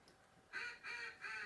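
Three drawn-out quacking blasts from a duck call in a Duck Dynasty hunting video game, evenly spaced, bright and fairly loud, with no talk over them.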